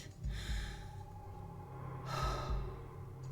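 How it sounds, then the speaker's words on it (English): Two deep, slow breaths drawn by a frightened person struggling to stay calm and hold back nausea, each a soft airy rush swelling and fading, close and alone without speech. "taking in deep breaths, trying to keep myself from vomiting and to keep calm"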